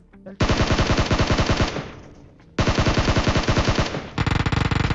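Sustained automatic bursts from an M16 rifle in a video game: two long, loud, rapid strings of shots separated by a brief lull, followed by a shorter clipped burst, with no talk.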